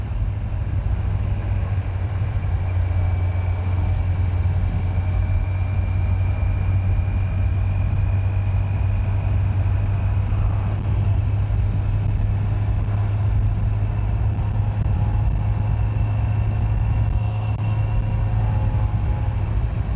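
A Kawasaki Z900 motorcycle cruises at speed in fifth gear, its engine and exhaust droning as a steady low hum under constant wind rush, with a faint whine rising and falling.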